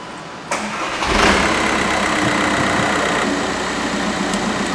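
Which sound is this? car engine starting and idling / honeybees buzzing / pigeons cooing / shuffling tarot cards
car engine starting and idling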